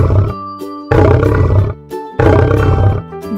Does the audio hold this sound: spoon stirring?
no